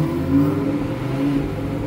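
A Lamborghini Huracan supercar's engine runs on the street in Cannes, a steady throaty mid-pitched drone with a slight swell in revs, close and fairly loud with no talking.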